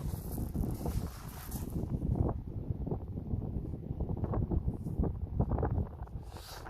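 Steady wind buffeting the microphone, a continuous low rumble with gusty swells and no voices.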